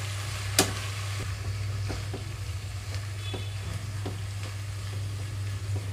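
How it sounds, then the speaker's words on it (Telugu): Amaranth leaves with chana dal tempering are stirred in a pan, with a steady soft sizzle and occasional scraping spoon strokes and taps, close and moderately quiet, with no voices. "ఒకసారి తాలింపు అంతా కలుపుకుంటున్నాను"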